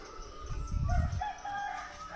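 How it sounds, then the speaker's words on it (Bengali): A rooster crows once, fairly close and clear, over a quiet outdoor background at an eco resort near Madhabpur Lake and Lawachara forest. "আপনারা হয়তো বিভিন্ন পাখির ডাকও শুনতে পাচ্ছেন"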